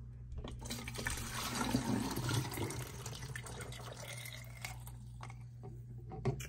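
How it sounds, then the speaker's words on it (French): Water runs steadily into a pot from a tap or container, a continuous close splashing, filling rush lasting several seconds with a low background hum and no talk. "Moi fin mettre de l'eau dans vaisseau"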